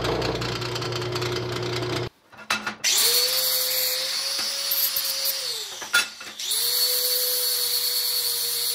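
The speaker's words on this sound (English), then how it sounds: "First, I'll drill some holes in it so that I can put the lags into the concrete wall" A power drill bores holes in steel C-channel for a deer fence, a loud steady whine that runs for several seconds, pauses twice and restarts, with no talking.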